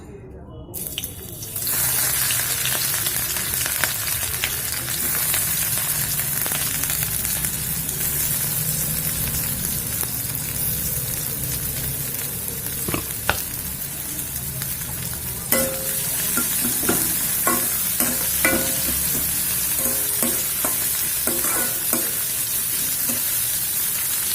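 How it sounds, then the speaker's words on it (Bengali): Onion and green chili fry in mustard oil in a pan with a loud, sustained sizzle that starts abruptly. Sharp crackles and stirring scrapes grow busier toward the end. "এই পেঁয়াজটাকে এবারে একটু হালকা ভাজা ভাজা করবো আমি"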